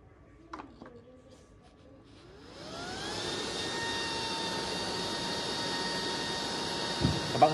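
Loud, steady whine and roar of a Japanese rocket-type exhaust fan motor after a quick spin-up, with rising tonal hum settling into a constant strong airflow; a few clicks and handling knocks come early and at the end.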